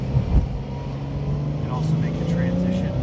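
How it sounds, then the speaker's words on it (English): Porsche 911 Sport Classic engine blipping for rev matching in Sport Plus mode, a steady close engine drone with a rising pitch sweep, heard from inside the car under a voice talking. "So we got rev matching in Sport Plus."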